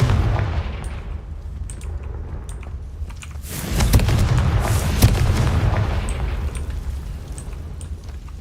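A Confringo fire spell explodes in the Hogwarts Legacy video game, a heavy booming blast with rumbling burst peaks in the middle of a steady game background, with no talk.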